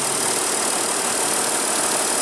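A 2014 Volkswagen Touareg 3.0 L diesel V6 idling, a steady, even hum with a faint knocking texture, close and unbroken throughout.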